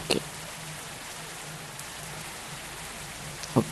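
Steady rain falls in a bus-driving simulator game on a Kottayam to Ernakulam route, a dense even wash of drops patters throughout, broken by brief sharp knocks at the start and end.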